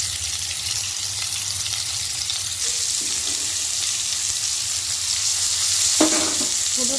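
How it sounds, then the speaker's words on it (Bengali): Potatoes and cauliflower frying in hot oil with salt and turmeric give a loud, steady sizzle throughout, with a few faint clinks of utensils and no talking. "আলু আর ফুলকপিটা প্রথমে একটু ভেজে নেব।"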